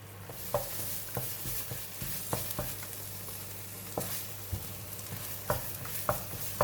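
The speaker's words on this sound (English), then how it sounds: "So we're going to stir fry the sambal for about 3 to 4 minutes" Sambal chili paste stir-fried in a pan for green beans, with a steady low sizzle broken by irregular scraping knocks of the spatula, moderately close and without voices.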